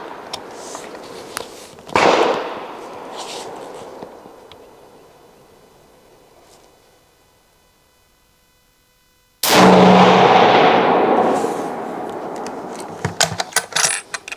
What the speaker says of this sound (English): let's go ahead and send some rounds down range